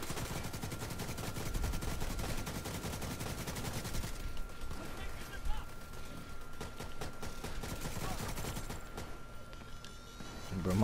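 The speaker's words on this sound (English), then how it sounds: "I ain't even aiming no more. I'm just firing from the hip." An AK rifle fired from the hip in a raid on Coney Island in a video game, rattling in long continuous automatic bursts, loud and dense, then thinner rapid shots with faint background noise.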